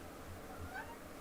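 A cat gives a single short, faint meow indoors with no one speaking.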